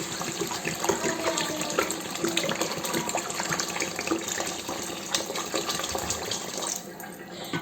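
Water poured into a pot of rice for colour rice, a continuous close gushing splash that runs steadily for several seconds before tapering off at the end, with no speech.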